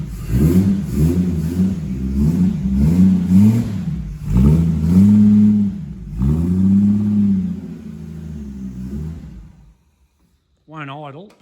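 A 1963 Ford XL Falcon engine runs rough and uneven, unable to hold a steady idle, its low rumble surging and sagging for about nine seconds before cutting out, followed by a brief voice.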